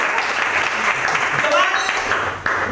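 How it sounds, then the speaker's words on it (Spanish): Audience clapping at a magic show, applause mixed with voices and cheering from the performer and crowd over a few seconds. "¡Aplauso, Giovanni!"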